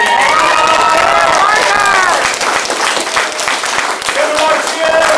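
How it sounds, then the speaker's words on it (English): Loud crowd of children and adults cheering, shouting and applauding at a martial arts belt ceremony in a family martial arts center, dense continuous roar with claps and whoops throughout. "Give him more cheer."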